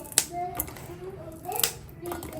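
Several crisp snaps in quick succession, close up, as fresh home-grown green chilies are broken, with quiet talking between them.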